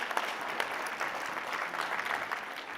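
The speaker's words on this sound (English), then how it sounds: "Round of applause for all of our sponsors." Steady applause from an event audience thanking sponsors at an economic forecast gathering, a continuous wash of many hands clapping, heard from a distance and fairly soft, with no talk over it.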